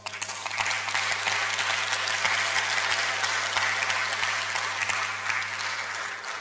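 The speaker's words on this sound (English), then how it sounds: "Let's give our panelists another round of applause." Forum audience gives panelists a round of applause, sustained, even clapping from a sizable crowd over a steady low hum, continuing for several seconds.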